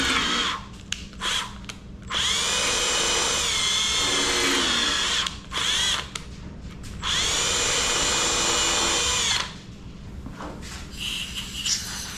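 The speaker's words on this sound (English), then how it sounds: "I just got an 1/8 inch drill bit." A power drill with a 1/8 inch bit whines in two long, loud bursts into a big-block engine block, with short pauses and faint handling noises between them.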